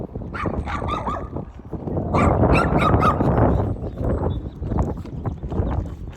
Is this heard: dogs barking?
yes